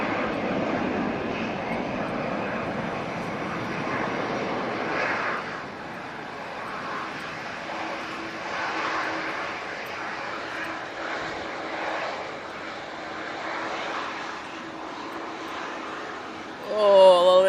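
A jet airliner climbing out on departure gives a steady, moderately loud engine roar with a faint whine, knocked sideways by a gust. A brief louder burst comes at the end, with no clear talk.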